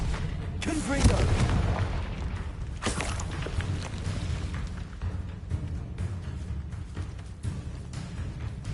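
Fiery Confringo spell blasts from Hogwarts Legacy, a loud booming burst near the start and another around three seconds, over a dense rumbling game soundscape with other spell effects continuing throughout.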